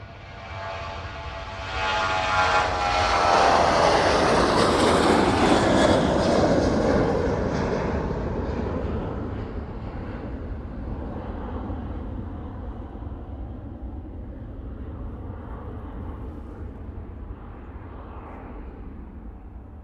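A jet airliner throttles up and takes off at East Midlands Airport, its engine roar swelling loud and broad as it passes close by, then fading to a steady distant rumble as it climbs away.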